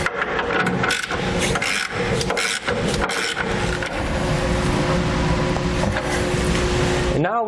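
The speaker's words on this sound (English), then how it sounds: "each side plate, we're going to tighten down the larger bolts" A wrench tightens the large bolts fastening the side plates of an underbed hitch kit to the frame of a 2018 GMC Sierra 3500 pickup, producing close, loud, repeated ratcheting and scraping strokes of metal.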